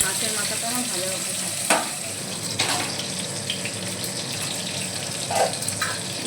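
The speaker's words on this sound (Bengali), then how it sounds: "মাছের মাথাটা আমি ভালো করে ভেজে নেব।" A fish head fries in hot oil in a pan, making a close, steady sizzle with a few brief louder spurts of crackle, and nobody speaks over it.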